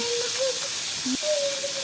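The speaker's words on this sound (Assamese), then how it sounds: "এইফালে মোৰ মাছৰ মূৰখিনি ভজা হৈ আছে।" Fish heads fry in oil in a pan, giving a loud, continuous close hiss and sizzle, with a few faint tonal sounds in the background.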